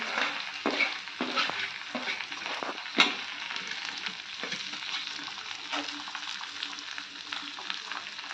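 Onion, capsicum, cabbage and carrot for momo filling stir-fry in a hot pan, a steady loud sizzle broken by repeated scraping strokes of the stirring utensil, one sharp clank near the middle, with no voices.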